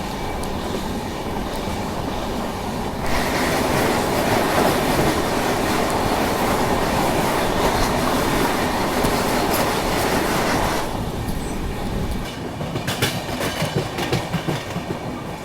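The Barmer-Yesvantpur AC Express, a diesel-hauled passenger train, rumbles along the rails with loud, continuous wheel roar and clatter that swells in the middle stretch, then eases slightly with rhythmic clicks near the end.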